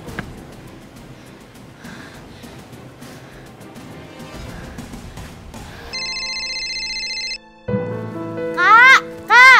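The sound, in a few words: mobile phone ringing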